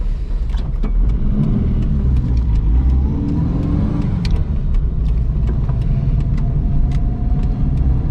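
A 1985 Ford Fiesta Mk2's 1.1 litre, 50 horsepower engine hums steadily while driving, with a constant low rumble and mild revving over eight seconds, heard from inside the cabin.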